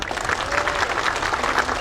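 Steady, dense clapping from an audience at a Kannada public speech, loud and continuous through the whole moment with no pause, a broad crowd texture of many hands.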